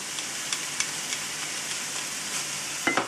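Mushrooms with ham sizzle steadily in a pan as they are sautéed, with soft clicks and scrapes from stirring and a sharper clatter near the end, heard close and without talk.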